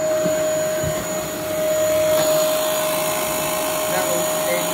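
A clogged vacuum cleaner runs with a loud, steady motor whine and hiss, its pitch dipping briefly before rising again, heard up close.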